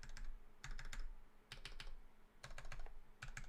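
A computer keyboard being typed on in bursts, quick clusters of crisp key clacks separated by short pauses, close and clear with no talking.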